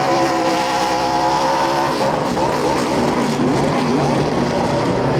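A race car does a victory burnout on a racetrack's front stretch, its engine roaring loud and continuous with tire squeal layered over the sustained drone.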